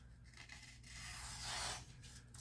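A Case Sodbuster knife with a chrome vanadium blade and yellow synthetic handle slices through an index card, giving a close, dry rasping swish that swells to a louder peak near the end of the cut.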